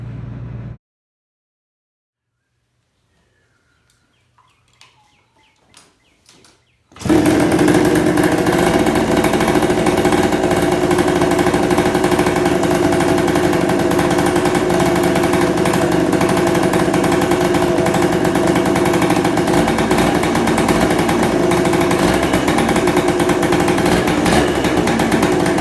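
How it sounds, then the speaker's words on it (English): A 1974 Kawasaki G5 100 motorcycle engine, freshly rebuilt and started for the first time, catches after a few quiet attempts and then runs loud and steady with a raspy two-stroke buzz close by. "Was the first start since I've been building the bike."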